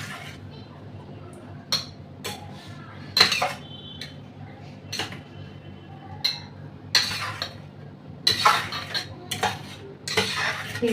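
Food being mixed by hand in a metal dish, likely boiled ingredients with mustard and oil, with irregular clinks and scrapes against the bowl and soft squishing between, close and moderately loud.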